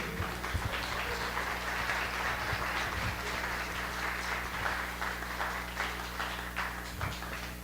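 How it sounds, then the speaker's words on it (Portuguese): A church congregation applauds steadily for several seconds, a dense, even wash of many hands clapping, with a low hum running underneath. "Aplauda ao Senhor."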